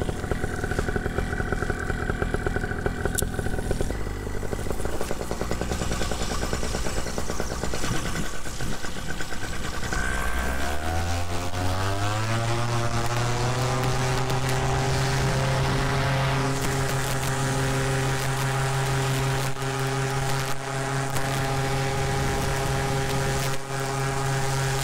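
A paramotor's engine and propeller drone loudly and continuously, starting as a rough idle and then spooling up to a steady, rising high-revving buzz with strong tonal harmonics.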